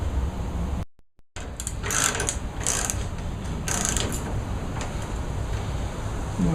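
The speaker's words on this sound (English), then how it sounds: "you need another wrench to actually hold this nut in order for all this to come off" A wrench ratchets on a nut while working on a Craftsman mower during a choke cable replacement, giving repeated clicking pawl bursts in uneven groups after a brief gap, close and fairly clear, with no talk.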